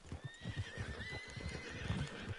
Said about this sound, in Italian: Il cavallo sta spompato, lo senti?